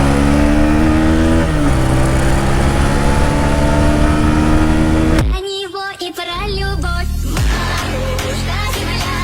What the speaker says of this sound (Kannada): ನಾನ್ ರಿವ್ಯೂ ಮಾಡ್ತಾ ಇರೋ ಬೈಕು ಹೋಂಡಾ C B R one fifty R